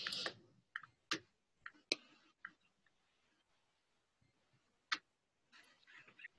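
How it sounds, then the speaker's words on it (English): Sparse, quiet clicks of someone typing on a computer keyboard, isolated taps and short bursts with long gaps between them, close by, with no talking. "Look at him type."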